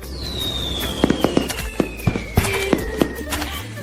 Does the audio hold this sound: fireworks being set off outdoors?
yes